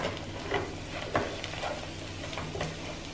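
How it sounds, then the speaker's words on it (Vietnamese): Corn kernels coated in salted egg yolk are stir-fried in a pan, with a soft steady sizzle and intermittent scraping stirs of the spatula, fairly quiet and close with no talking. "Mình đảo để cho cái lớp trứng muối á, nó bám ở bên ngoài bắp."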